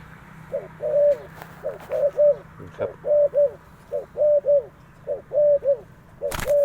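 Doves coo repeatedly in rhythmic two-note phrases during a dove decoy hunt outdoors, the calls clear and moderately near over faint background noise, with a brief sharp noise near the end.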